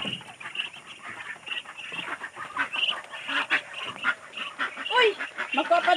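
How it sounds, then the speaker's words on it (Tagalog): Farm ducks quack in a busy cluster, repeated nasal calls overlapping at close to moderate range with faint background noise and some voices. "Pato."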